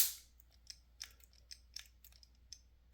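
Polymer-framed striker pistol trigger being pulled and the striker resetting, a quiet series of small dry mechanical clicks close to the mic, with no voices.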